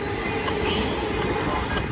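A heavy BNSF manifest freight train pulled by seven locomotives rolls past at Cajon Summit, a close, continuous roar of wheels and cars with high-pitched wheel squeal on top.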